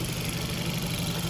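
A Hyundai Accent GDI engine (2011-2017 model) runs at a steady, fairly loud hum, held at a raised speed close by, with no talk.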